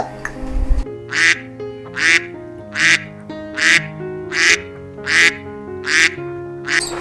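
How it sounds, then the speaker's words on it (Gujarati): A duck quacks steadily, eight or so loud nasal quacks in an even rhythm, close up with little else around. "છે બતક"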